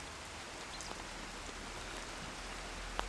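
Steady rain pattering outdoors where pigeons walk about, a soft even hiss of drops on surfaces with occasional louder single drips and a low background rumble.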